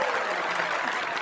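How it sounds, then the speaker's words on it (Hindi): A crowd applauds in a London casino scene from the Bollywood comedy film Housefull: dense, steady clapping, loud and continuous through the short moment, with no voices over it. "तालियां हैं, तालियां हैं आप लोगों को"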